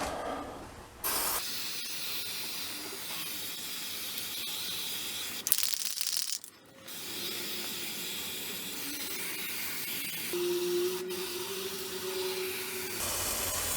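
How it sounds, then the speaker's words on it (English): A spray gun applies undercoating to the underside of a classic car at home, giving a steady, close hiss that runs almost continuously. It pauses briefly midway, then resumes at the same level. "Try and spray everything as much as we can."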